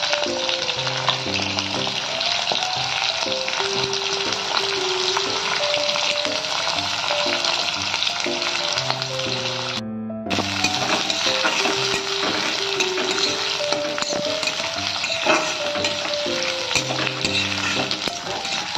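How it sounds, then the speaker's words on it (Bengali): White oil and a little ghee fry gently in a pan, a steady broadband sizzle running the whole time under a layer of background music, with a brief dropout near the middle. "সাদা তেল দিচ্ছি। অল্প ঘি দিয়ে হালকা ফ্রাই করে নেব।"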